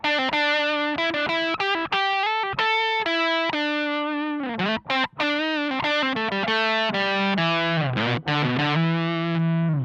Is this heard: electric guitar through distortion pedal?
yes